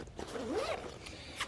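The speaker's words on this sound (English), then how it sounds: "there's a larger pocket here, which zips all the way down" Zipper on a sling bag pocket, a single quick faint zip drawn over about a second against quiet outdoor background.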